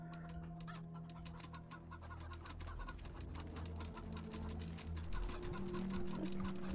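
Several chickens clucking in the Wasteland 3 video game, a steady busy run of clucks over a layered background hum with no talk.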